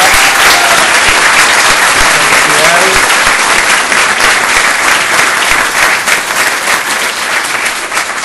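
Audience applause at the 29th anniversary ceremony of El Colef, loud continuous clapping from a large crowd filling the whole stretch without a break, with no speech over it.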